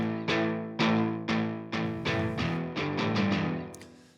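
Distorted electric guitar power chords strike one after another, each loud hit ringing and fading before the next, about ten chords in a steady, slightly quickening rhythm with no voices.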